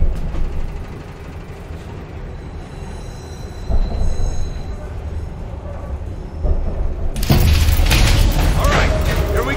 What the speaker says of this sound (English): Train slowing down.